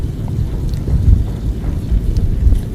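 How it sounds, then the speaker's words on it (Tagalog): Strong wind buffets the microphone on a fishing outing by the water, a constant low rumbling roar with gusting swells, no one speaking. "Malakas yung hangin."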